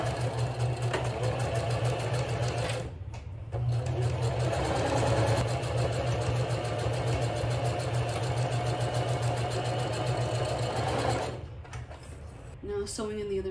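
A sewing machine stitches the side of a homemade fabric shopping bag, running in a steady close whirring hum with two brief pauses.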